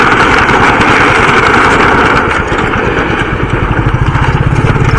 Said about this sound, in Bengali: আগের থেকেও বাইক আসছে, আর আমরা এদিক থেকে যাচ্ছি